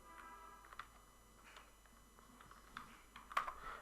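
Keys on a computer keyboard are tapped in quick, irregular bursts at low volume. The clicks are close and dry, with a slightly sharper strike near the end and no voices over them.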